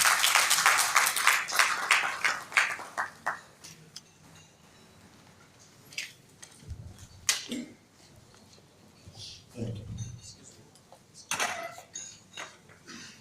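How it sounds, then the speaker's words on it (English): Audience applause at a conference of directors of lands after a guest is invited to the podium: a burst of dense clapping for about three seconds, then fading into scattered claps, thumps and a few brief late rounds. "Please let's give him a round of applause."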